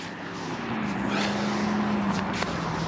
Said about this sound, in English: There's a lot of vehicle traffic